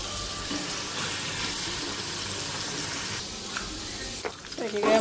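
Water poured into a pan of paneer curry, a broad steady rushing hiss that runs throughout, with a brief clatter and stirring toward the end.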